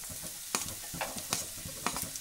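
Carrots go into a pan of vegetables sautéing for veg chowmein, and the pan keeps up a steady sizzle. A spatula scrapes and stirs in quick, irregular strokes, close and moderately loud, with no talking.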